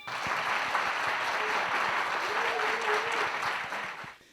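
Steady applause from a crowd at a youth mock trial competition opening ceremony claps on for several seconds, with a brief voice rising faintly underneath before the clapping fades out.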